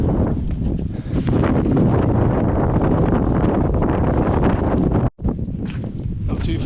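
Strong headwind buffeting the microphone on Clough Head in the Lake District, a loud continuous roar with gusty rumble, briefly cutting out for an instant before surging back.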